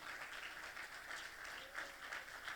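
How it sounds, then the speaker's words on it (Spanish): A church congregation applauds the Lord during a sermon, a steady dense wash of clapping held at an even level throughout, with no voice above it. "Dale ese aplauso fuerte al Señor"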